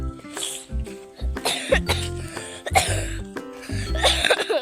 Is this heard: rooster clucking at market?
no